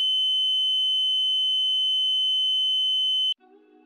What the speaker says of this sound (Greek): πλησιάστε το πινίο σε ένα μεγάλο μεταλλικό δείγμα αρκετά κοντά ώστε να έχετε το ισχυρότερο σήμα ήχου